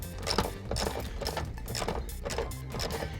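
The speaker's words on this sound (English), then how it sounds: "So I'm just doing up the last of the bolts for the front seat." Ratchet tightening the front seat bolts inside a Subaru WRX, a steady series of close, rapid clicking strokes in a regular back-and-forth rhythm, fairly quiet.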